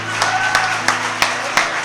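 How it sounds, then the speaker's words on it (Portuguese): A church congregation claps together in a steady rhythm at a moderate distance, with five or six evenly spaced claps over a sustained background tone. "Então você pode aplaudir a Ele."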